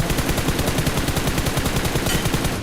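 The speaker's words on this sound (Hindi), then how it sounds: "बगल से गोली चल रही है" Rapid automatic gunfire from the battle royale game BGMI rattles on continuously and loudly, evenly spaced shots filling the whole stretch without pause.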